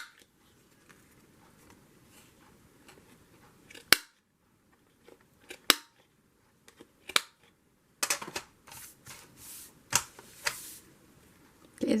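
Scissors snip the corners of handmade journal paper in a handful of sharp, close, separate cuts over a quiet room, with faint rustling in between.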